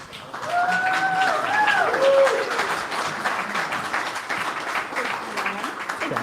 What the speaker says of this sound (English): Another round of applause for Yann.